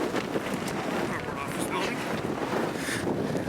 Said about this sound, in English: It's a windy day here up at the point